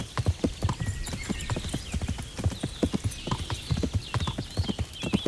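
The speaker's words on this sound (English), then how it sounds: "It's a kick-ass horse." Horse hooves clip-clopping in the Kingdom Come: Deliverance video game, a steady rhythmic trot of sharp hoofbeats on a road, close and clear, with faint background ambience and no talk over it.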